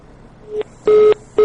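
Telephone keypad dialing tones sound as three short, clear beeps, one faint then two louder, evenly spaced with brief silence between.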